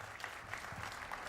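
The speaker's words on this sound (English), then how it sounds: "I wonder if they're applauding because I tried to speak in French" An audience applauds a keynote speaker at a conference: steady, faint applause from a crowd, many hands clapping together without a break for the whole stretch.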